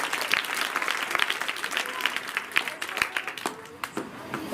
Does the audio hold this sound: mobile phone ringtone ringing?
no